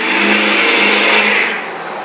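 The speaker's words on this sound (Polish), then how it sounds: "motor, samochód." A car or motorbike passing close by on a city street, a loud, steady engine roar that swells and then eases off as it moves away, with no talking over it.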